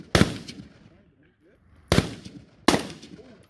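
AK rifle fired at an outdoor shooting range: three loud single shots, the first two well apart and the last two closer together, each with a short echoing tail.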